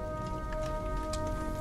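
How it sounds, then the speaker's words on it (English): Steady rain falls on surfaces during a stormy scene in a forest setting, a continuous soft hiss of drops with faint spatters, heard alone without talk at a moderate, even level. "Looks like we're in for a bit more rain than we bargained for."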